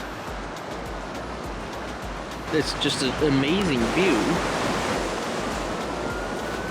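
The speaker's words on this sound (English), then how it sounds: "And we've parked on this pier, and the ocean is like right there." Ocean waves wash beside a pier in Kauai, Hawaii, creating a steady broadband roar of surf, with a person talking over it midway.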